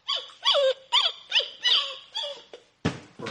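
A 2001 Mattel radio-controlled toy robot dog plays an electronic sound effect: a quick run of six or seven squeaky, synthesized yips and barks, close and fairly loud, ending in a short burst of noise.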